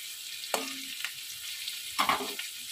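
Garlic in oil on a low flame gives a steady, gentle sizzle, with two brief louder crackles from stirring, close and without talk.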